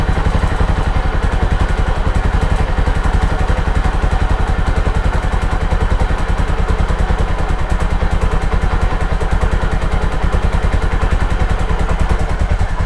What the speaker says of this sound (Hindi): देखो बाइक चालू, आपको पता ही नहीं चल रहा। साउंड सुन लो और एक बार।